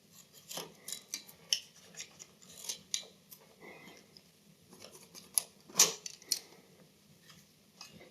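Scissors snip through wallpaper being hung around a stone wall, making a series of close, crisp cuts, each a short rasping crunch, spaced irregularly with quiet pauses between.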